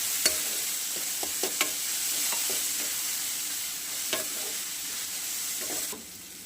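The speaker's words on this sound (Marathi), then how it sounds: "कांदा आपल्याला मस्त परतून घ्यायचा टोमॅटो पण टाकून देऊयात" Chopped onion and tomato sauté in a pan for chicken curry with a steady, hissing sizzle, broken by a few sharp clicks of a spoon stirring against the pan, close by and with no talking.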